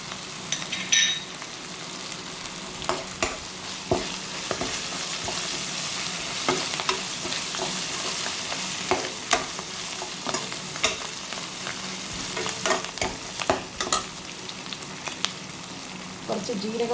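Curry leaves crackle and sizzle in hot oil while a spoon stirs them in a pan, steady frying hiss with scraping stir strokes throughout, close and alone, for a Kerala mango pulissery with buttermilk.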